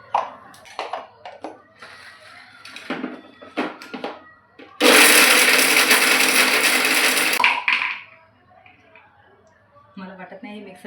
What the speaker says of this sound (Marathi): कारण की मिक्सरनं झटके देऊन राहिलेला आहे